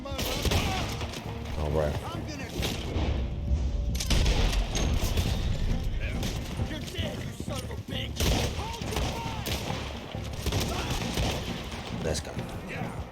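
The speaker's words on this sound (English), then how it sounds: "Let's use our new shotty." Shotgun fire in a busy video game battle, repeated blasts mixed with other gunfire and explosions throughout, loud and dense, with people talking over it.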